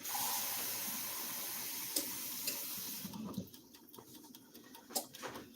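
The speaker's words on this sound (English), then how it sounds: "Let me get that cup of water situated." A cup of water is poured out for a cocoa broth recipe: a steady splashing pour that fills the first half, then stops, leaving small clinks and taps of the cup and kitchen handling nearby.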